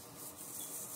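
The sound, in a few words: rubber gloves rubbing and crinkling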